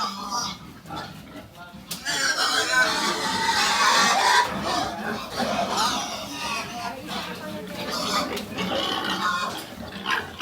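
Farm pigs, young gilts, grunting and oinking in a pen, several animals snorting over one another at close range while people talk loudly nearby.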